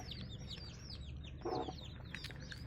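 Kadaknath hen with a freshly hatched brood of about twenty chicks on a poultry farm. The chicks peep in a steady, high-pitched chorus, and a short burst of the hen's low clucking comes in near the middle.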